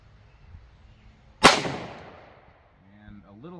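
A single sharp pistol shot from a Smith & Wesson M&P chambered in 357 Sig with a 5-inch barrel, a loud crack that decays into a ringing tail, with a brief voice following afterward.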